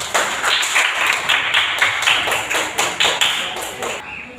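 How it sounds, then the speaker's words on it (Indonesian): A class of pupils clapping together in a classroom, a close, loud run of quick rhythmic claps in unison, slightly irregular. "Tepuk tangan dulu."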